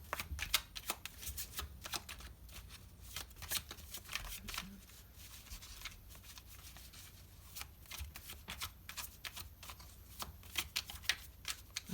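A deck of body cards being shuffled by hand, a close, quiet run of soft riffling flicks and card slaps that continues for the whole stretch.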